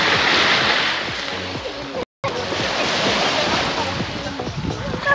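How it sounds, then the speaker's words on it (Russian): Waves wash onto the shore of the Ob Sea at Ordynka, a continuous surf roar mixed with strong wind buffeting the microphone, broken by one short dropout, with voices talking faintly underneath. "Волна! Ой, волны!"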